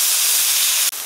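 Seasoning sauce hits a wok of stir-frying zucchini and pork belly, giving a loud, dense steamy sizzle that cuts off abruptly near the end.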